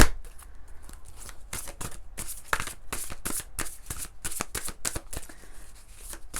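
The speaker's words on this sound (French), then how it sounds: "On va prendre une carte de l'enfant intérieur." Inner child oracle cards being shuffled by hand, a close, continuous riffle of quick papery flicks and slaps lasting several seconds, with no talk.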